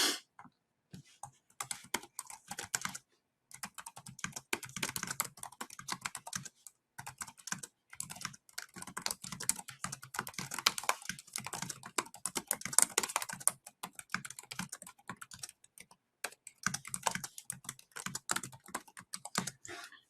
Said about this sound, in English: I can type right in here.